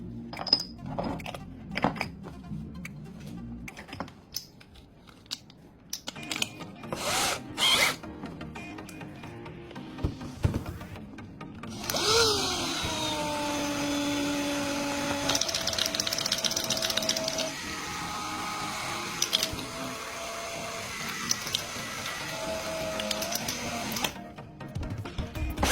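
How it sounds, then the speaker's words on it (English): A drill spinning a sealed jar of rusty items, heard as a rattling whir that starts in short bursts, then settles into a continuous droning spin with a wavering pitch. "After 30 minutes, I stop the drill and open the jar once again to check the results."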